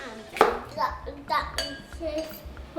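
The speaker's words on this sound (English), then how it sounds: "Can you stir it around like that?" Stirring food in a pot during Thanksgiving cooking, with light clinks and scrapes of a utensil against cookware, irregular and close, under quiet voices of an adult and someone talking.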